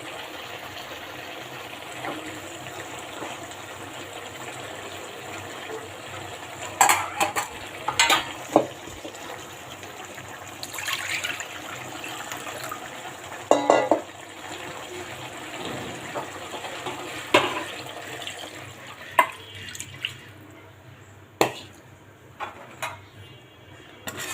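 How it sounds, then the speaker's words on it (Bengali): Small puti fish and a little broth go into a pan of bitter gourd curry, giving a steady low sizzle and bubbling with scattered clinks and stirring knocks, the fizz thinning toward the end. "আমি এখন মাছটা দিয়ে দিলাম আর দিয়ে দিব সামান্য একটু ঝোল"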